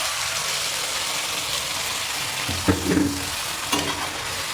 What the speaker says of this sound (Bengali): দিয়ে দেবো কারি পাতা, দিয়ে দেবো যে মশলাটা রেডি করেছিল সেই মশলাটা তেলের মধ্যে দিয়ে দেবো